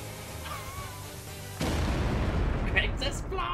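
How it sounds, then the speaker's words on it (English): An explosion in the Mario RPG video game, a sudden loud blast that gives way to a sustained rumbling roar with crackling bursts, dense and continuous until the end. "Great explosion!"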